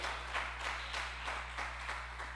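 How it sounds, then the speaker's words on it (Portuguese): Congregation clapping in a church service, a steady broadband wash of applause with rhythmic pulses over a constant low hum, fairly distant and even throughout. "Dá um aplauso ao Senhor aí então, vai."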